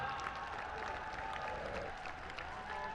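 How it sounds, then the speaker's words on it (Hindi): Steady, dense applause from a large crowd at a Durga Ashtami Ram Leela stage event, continuous and even throughout with a faint voice mixed in. "जोरदार तालियों के साथ"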